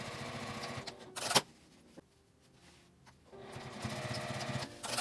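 A sewing machine bastes a strap onto fabric in two quick bursts of rapid stitching, separated by a quiet pause with a few faint clicks, close and fairly soft.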